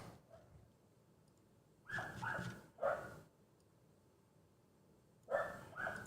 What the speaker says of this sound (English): And my dog is not happy today.